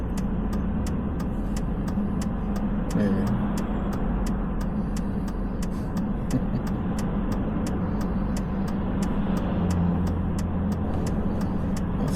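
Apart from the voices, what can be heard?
road traffic, cars passing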